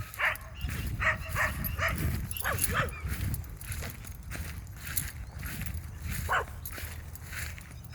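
A dog barks in repeated sharp bursts, fairly close, while grass is being mowed in a coconut orchard, with a steady low engine drone and a person talking underneath.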